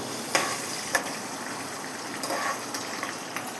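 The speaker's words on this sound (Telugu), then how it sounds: "పచ్చిమిర్చి కూడా కొంచెం ఫ్రై అవుతుంది కదా" Green chillies for mango pulihora fry in hot oil in a pan, giving a steady close sizzle broken by a few soft pops and stirring clicks, with no talking.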